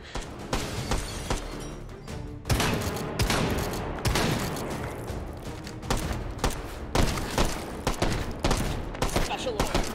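Dense gunfire in the VR shooter Hot Dogs, Horseshoes & Hand Grenades, with rapid loud shots and bursts that run almost nonstop for ten seconds while a voice speaks in places.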